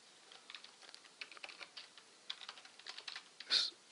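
Fingers type C++ code on a computer keyboard, a quick irregular patter of close, crisp key clicks with a louder cluster near the end.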